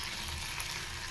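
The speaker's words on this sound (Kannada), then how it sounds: "ಈಗ ಇದಕ್ಕೆ ಟೊಮೊಟೊ ಸೇರಿಸ್ತಾ ಇದ್ದೀನಿ. ಟೊಮೊಟೊ ಚೆನ್ನಾಗಿ ಫ್ರೈ ಆದರೆ ಟೇಸ್ಟ್ ಸಿಗೋದು ಚಟ್ನಿ." Tomatoes frying in a pan for garlic tomato chutney give a steady, soft sizzling hiss that holds evenly for the whole moment, with no voices.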